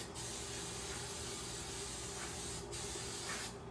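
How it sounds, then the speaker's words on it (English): Hair spray hisses from an aerosol can onto scrunched, curled hair in one long, steady close spray, with a couple of brief dips. "So after that, I just spray it."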